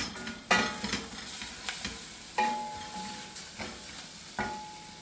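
Beans are stirred in a frying pan for enchiladas, seasoned with black pepper and salt: a soft sizzle runs underneath about half a dozen separate scraping clatters of utensil against pan, with no voices.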